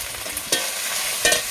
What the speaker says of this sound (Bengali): দিয়ে এটাকে মশলাটা আমি ভালোভাবে একটু ভেজে নেব